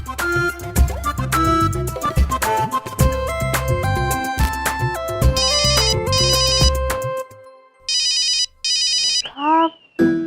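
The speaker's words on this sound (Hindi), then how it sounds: "फोन उठाइए, फोन बज रहा है।" A mobile phone ringtone rings loudly in a home scene, a bright melodic tune that plays continuously, then gives way to short repeated electronic ring bursts near the end, with no talk over it.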